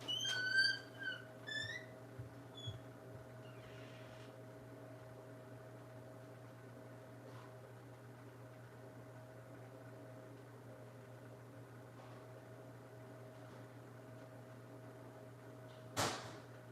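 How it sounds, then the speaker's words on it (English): A squeaky door creaks open indoors with a few faint high squeals, then after a long quiet stretch under a steady appliance hum, it swings shut with a brief, sharp bang. "That squeaky door."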